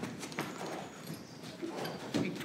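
A horse moves on the ground with soft, uneven hoofbeats that slow as it eases its pace, faint and fairly close, with no talk.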